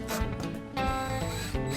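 Hacksaw cutting through a metal gutter downspout, with quick rasping back-and-forth strokes at close range, the sharp scraping repeating in two or three pushes.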